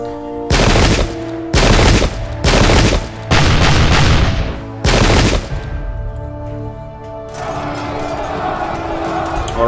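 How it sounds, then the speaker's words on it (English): Cannon and musket fire in the Pike and Shot video game: five loud, sharp crackling volleys in quick succession, each about half a second long, followed by a lingering rumble and faint battle ambience. "First, we'll go ahead and fire off our cannon, just for posterity's sake"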